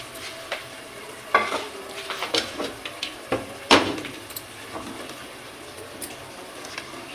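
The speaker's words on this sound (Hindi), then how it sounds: "हल्का से चम्मच हिलाएंगे इसमें ताकि चावल जो है वो टूट ना जाए" A spoon gently stirs vegetable rice in a pot, giving soft scattered scrapes and a few sharper clinks against the metal over quiet background sizzling, with no voices.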